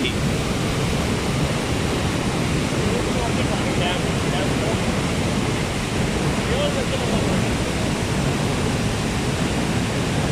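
River water rushing through Rasul Barrage in Mandi Bahauddin, Punjab, Pakistan, a steady, loud, broadband roar of churning flow and surf-like wash that holds constant throughout with no pauses.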